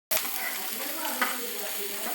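Onions sautéing in a pan over a medium flame, a sudden onset of bright steady sizzling that holds evenly with a brief scrape of stirring, no talk.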